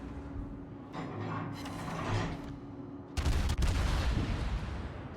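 Tier 10 Commonwealth battleship main battery firing in World of Warships, heavy booming salvo bursts rolling over a steady engine drone, loudest and densest in the second half, no voices.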